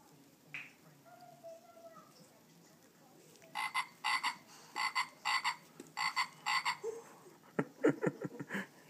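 A frog croaks in a series of short, raspy bursts, loud and close, repeating in clusters with brief gaps before a quick rapid run near the end.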